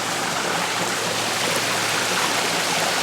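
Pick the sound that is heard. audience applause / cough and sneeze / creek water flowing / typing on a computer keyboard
creek water flowing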